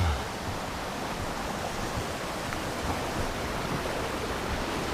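A brook rushes beneath a trail bridge on the Appalachian Trail in the White Mountains, a steady, loud, unbroken wash of water with no pauses.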